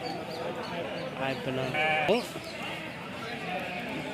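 Sheep bleat amid a busy crowd at the Kadiri sheep and goat market, a few short bleats rising over constant nearby chatter and talk.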